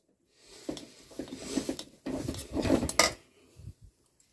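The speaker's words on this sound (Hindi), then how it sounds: "गुड़ डाला उसको भी हमें इसी तरीके से मिक्स करते हुए क्रश करते हुए हाथ स्पैटुला को दबाते हुए मिक्स करना" A spatula presses and mixes jaggery into wheat flour in a pan, making close, uneven scraping and clinking strokes in short bursts with brief pauses. No voices are heard.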